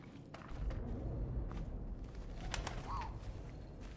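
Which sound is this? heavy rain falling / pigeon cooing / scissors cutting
pigeon cooing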